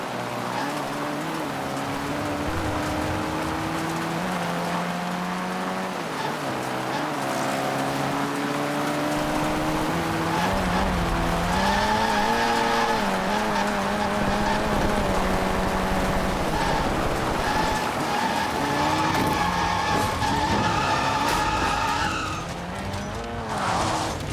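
Vehicle in Call of Duty Warzone driving with a droning engine whose pitch rises and falls as it shifts and slides, tires hissing and skidding across rough ground, continuous and fairly close with no talk.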